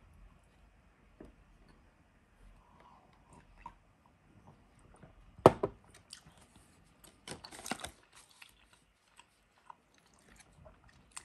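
Crunchy cornes de gazelle almond pastries with a lightly crisp flour shell being bitten and chewed: quiet, close crunching with one sharp bite and a cluster of crisp chewing sounds, otherwise near silence.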